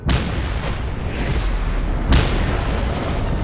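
Explosive barrels blow up in the PC game Mad Max: two loud, close booming blasts, one at the start and one about two seconds later, each trailing into a rumbling roar.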